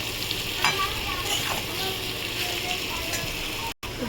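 Turmeric and spices frying in a pan for aloo posto, a steady close sizzle with soft stirring scrapes throughout and one brief dropout near the end.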